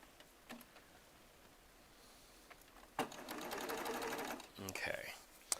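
A Baby Lock Triumph serger runs a quarter-inch seam in a burst of rapid, whirring stitching at close range, set between quieter moments with soft handling clicks and a faint voice nearby.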